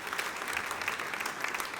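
A church congregation applauds during a sermon, a sustained, even burst of clapping from many hands.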